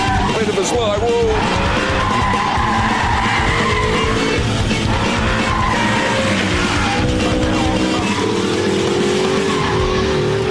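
An Audi R8 with its stability control off, sliding as its tires squeal and skid over a revving engine, loud and continuous, while someone talks over it.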